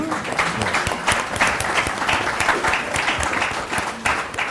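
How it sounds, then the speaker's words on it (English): Audience applause at a Black History Month panel, a brisk, fairly close burst of many hands clapping that stays dense and lively throughout. "give him a round of applause."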